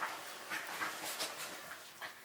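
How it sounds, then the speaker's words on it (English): Dogs romping in the background, with scattered yips, whimpers and scuffling bursts, moderately distant and fairly quiet. "My dogs are playing."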